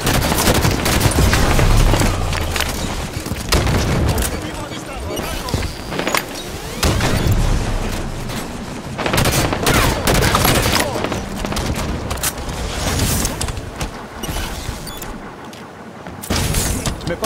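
Dense enemy gunfire and explosions rattle through a Halo 5: Guardians Warzone match on the Skirmish at Darkstar map, with sustained loud bursts and booms filling the scene, a voice talking over the action.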